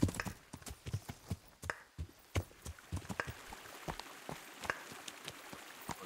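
Horse hooves clip-clop at a steady trotting rhythm, fairly close and distinct, with nothing else heard, from a horse ridden at night in the video game Kingdom Come: Deliverance.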